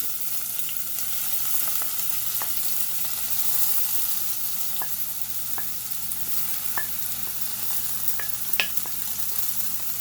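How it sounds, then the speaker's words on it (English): Fresh vegetables sizzle steadily in a pot for callaloo saltfish seasoned rice, a constant hiss broken by scattered sharp pops and light stirring clicks, close and alone. "And add all your vegetables to the pot."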